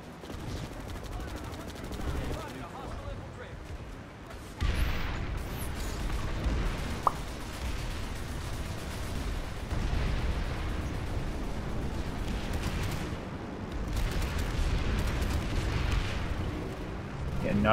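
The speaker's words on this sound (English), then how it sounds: "I uncloak and start shooting" Gunfire from the online shooter Planetside 2, a dense, continuous clatter of weapons and blasts that jumps louder partway through and stays busy, with a voice talking over the shooting.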